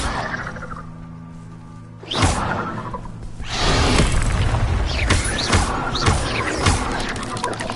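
An Incendio fire spell is cast in Hogwarts Legacy on PS5, giving a whooshing burst of flame after a low hum, then a louder, sustained crackling roar of fire with several sharp flaring swishes.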